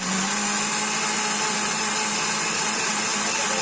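A kitchen grinder blending onion and chili into paste runs as a steady, loud whirring drone with a high motor whine, continuous throughout and heard alone without talk.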